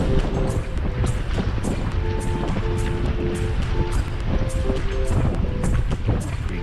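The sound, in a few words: wind blowing off the lake while biking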